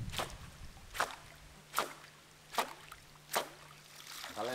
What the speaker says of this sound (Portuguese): Tá levantando bastante água e fazendo um barulho bem bacana